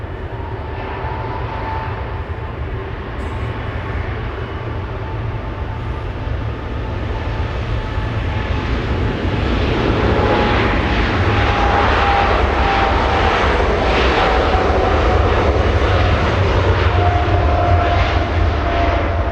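Lufthansa flight 457 airliner departing Los Angeles International for Frankfurt, a steady, loud jet roar with a rumbling low end that builds gradually, with no other sounds.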